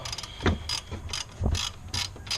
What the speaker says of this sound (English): we're just going to loosen up the hold down bolt here.